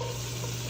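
Minced shallot frying in melted butter in a pan, a soft steady sizzle with faint stirring, brief and fairly quiet.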